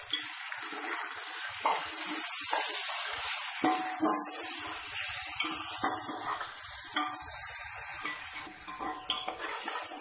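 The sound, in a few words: chickpeas frying in oil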